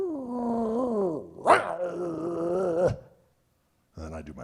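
A voice imitates cats growling and fighting, with two drawn-out, wavering yowls and a sharp snarl between them, then a brief silence before another sound begins.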